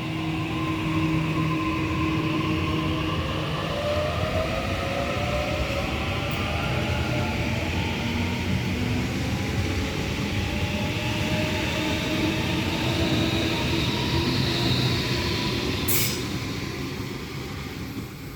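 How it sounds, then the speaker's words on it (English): Waratah A-set electric train departing a suburban station platform, a steady loud rumble of wheels and traction motors with rising whining tones as it pulls away, and a brief high squeal near the end. "A3 now departing platform 1, Gordon via Strathfield and Central service, stopping all stations"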